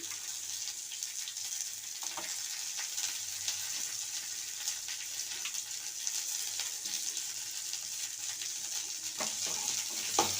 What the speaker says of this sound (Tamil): இப்போ வெங்காயம், கருவேப்பிலை சேர்த்துக்கலாம். இப்போ பூண்டும் பச்சை மிளகாவும் சேர்த்துக்கலாம்.